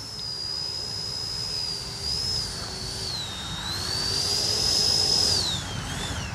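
A Flyfans Su-27 twin 64mm electric ducted-fan RC fighter jet flies overhead with a steady high-pitched whine. The sound rises and falls in pitch as it passes, and it gets louder toward the end.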